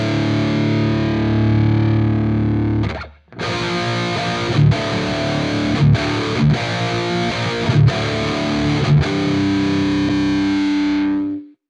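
Heavily distorted electric guitar in D standard through a Quad Cortex: a sustained chord rings out, breaks off, then a chugging riff of repeated palm-muted hits with short gaps, loud and close, ending on a held chord.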